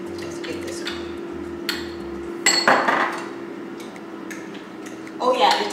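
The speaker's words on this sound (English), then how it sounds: "dump all the ingredients in a low heat. Get it stirred up" Ingredients, including coconut oil, stirred in a pot over low heat: intermittent metallic clinks and scrapes against the pot over a steady low hum, with a louder clattering burst midway.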